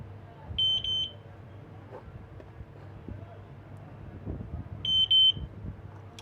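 A needle detector beeps twice as it picks up a tiny metal ball, each burst a short cluster of shrill electronic tones, with a low machine hum and a voice talking quietly in between.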